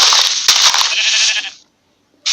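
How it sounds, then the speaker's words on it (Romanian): Bleating from sheep in the Minecraft video game, a loud cluster of game-sound calls for about a second and a half, followed by silence and then a fresh burst at the end. "Cred că vreau să omor oile astea."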